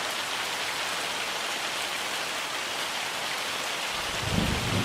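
Steady heavy rain patters down in a farming game world, with a low rumble of thunder building near the end.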